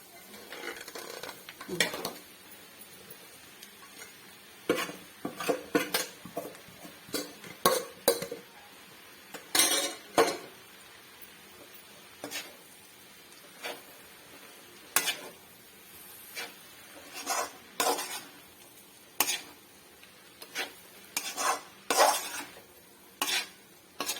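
Clam meat being stirred and fried with chilli in a pan, heard as a series of short scraping and clinking spoon strokes over a faint sizzle, irregular and moderately close, with no talking.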